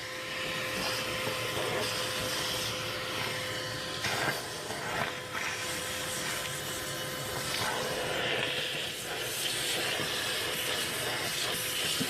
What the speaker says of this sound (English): You have a shop vac to vacuum all this crap out